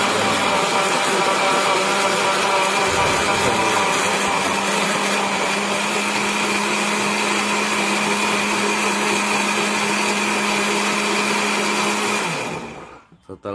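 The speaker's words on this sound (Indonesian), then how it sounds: "Kita masukkan nasi putih, kita masukkan penyedap rasa, nah, secukupnya. Oke. Setelah itu kita blender." Blender whirring as it mixes white rice with seasoning, a loud continuous motor whine with a steady pitch held for about twelve seconds, then switched off and spinning down.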